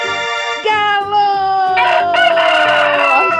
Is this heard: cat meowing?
no